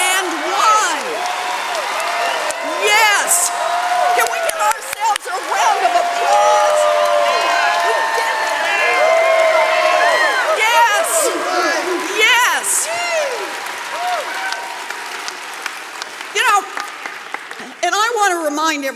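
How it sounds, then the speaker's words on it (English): A packed political rally crowd in Boston claps and cheers for itself, loud sustained applause with whoops and shouts rising over it, and scattered voices mixed in. "Can we give ourselves a round of applause?"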